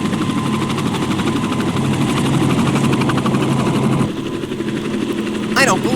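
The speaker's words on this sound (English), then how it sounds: "the helicopter flies off" A jet helicopter in an audio drama effect roars with a steady, loud turbine whine and rotor throb that shifts near the end as it flies off, a brief high squeal rising over it.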